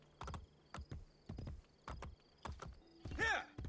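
Horse hooves clip-clop in bursts in Assassin's Creed: Brotherhood, a steady trotting rhythm of several close hoof strikes, ending with a whinny from the horse.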